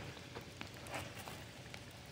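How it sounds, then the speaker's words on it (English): Rain falling outdoors, a faint steady patter with a few soft drops standing out, distant and without voices. "It's raining right now."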